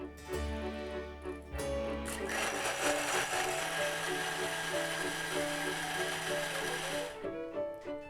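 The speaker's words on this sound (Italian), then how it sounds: "le scorze del limone in un frullatore qualsiasi o anche un frullatore a immersione, l'olio di vinacciolo lo versiamo direttamente dentro e andiamo quindi a frullare alla massima potenza" A blender running at full power on lemon zest and grapeseed oil, a loud continuous whirring roar that shifts pitch as it spins up, then cuts off near the end.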